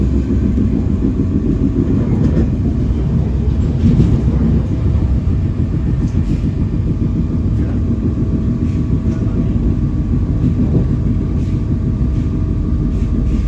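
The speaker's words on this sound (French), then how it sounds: "on était à la gare et on attendait le RER." A RER commuter train rumbles steadily at a station near Paris, a loud, dense low roar with rattling carriage noise that holds unbroken throughout.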